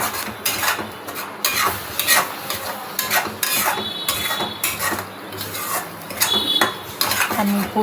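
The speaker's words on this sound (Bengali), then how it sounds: "ঢাকা তুলে তুলে একটু নাড়াচাড়া করে আবার ঢাকা দিয়ে দিয়ে কষিয়ে নিচ্ছি" Spice masala being stirred and sautéed in a pan with a lid lifted and replaced, repeated scraping and clanking of utensil against metal in an irregular rhythm, close and fairly loud.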